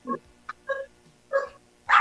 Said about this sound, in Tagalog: mga aso po yun, sir. Aso. Tumatahol, oh.